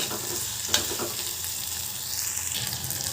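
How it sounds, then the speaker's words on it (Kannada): Drumsticks cook with tomato and salt in a pan, a close, continuous sizzle layered with stirring scrapes and a sharp knock of the spoon early on, steady in loudness and with no one talking. "ಟೊಮೆಟೊ ಹಾಕ್ಕೊಂಡಿವಲ್ವ ಚೆನ್ನಾಗಿ ಕಲಸಿ ಸ್ವಲ್ಪ ಉಪ್ಪು ಹಾಕಿ ಒಂದು ಎರಡು ಮೂರು ನಿಮಿಷ ಈ ನುಗ್ಗೆಕಾಯಿನ ಬೇಯಿಸ್ಕೊಂಡ್ಬಿಡೋಣ"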